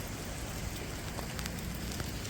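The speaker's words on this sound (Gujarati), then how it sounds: "ભાઈ જમાવટ પડી ગઈ છે વરસાદ જે આવે છે" Steady rain pours down in a dense, even hiss with scattered louder drop impacts, constant throughout and with no voices.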